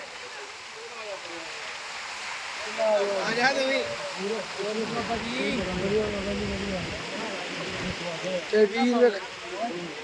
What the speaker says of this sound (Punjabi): ਦੇਖੋ ਪਾਣੀ ਦੀ ਸਪੀਡ ਦਾ ਖੜਾਕ ਵੇਖੋ ਪਾਣੀ ਦਾ